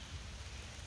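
Steady rain on a rainy morning in a garden, falling as a soft, even hiss close by for under a second with no talk over it.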